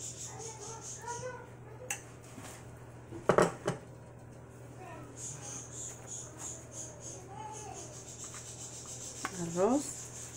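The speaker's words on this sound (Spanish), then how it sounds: "Voy a ponerle frijoles." Refried beans spooned onto a tortilla for an asada burrito: soft scraping and tapping of a spoon with a few clinks of utensils, over a steady hum and faint insect chirping.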